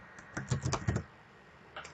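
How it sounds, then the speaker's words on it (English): Typing on a computer keyboard in accounting software: a short close burst of quick plastic key clicks, then a pause and a couple more taps. "I'm going to type in the word payment"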